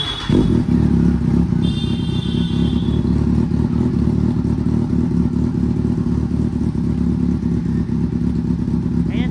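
A Kawasaki Z800 inline-four motorcycle idles loud and close, a dense steady engine rumble running throughout with a brief clatter at the start.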